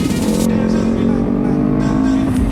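A Kawasaki ZX-10R sport motorcycle with a loud exhaust rumbles steadily nearby in slow city traffic, its deep engine drone continuous beneath a voice.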